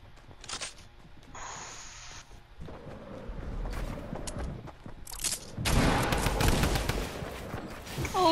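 Gunshots in a Fortnite trios match, a few sharp cracks early on, then a louder sustained burst of firing with footsteps and mechanical clatter in between, fairly close.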